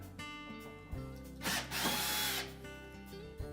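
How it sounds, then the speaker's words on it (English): A cordless power drill whirs in short bursts while removing rear screws from a Whirlpool range, with one longer, louder run in the middle and brief motor revs before and after, close and without talk. "we're simply going to remove 4 screws at the rear, leaving the brackets intact."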